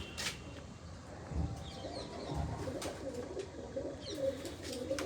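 A female pigeon coos softly and repeatedly in a steady rhythm, with a few faint bird chirps in the background.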